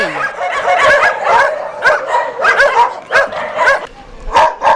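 Many dogs barking and yipping together at a crowded shelter housing about 400 dogs and cats, loud and close, overlapping barks in a dense, continuous chorus.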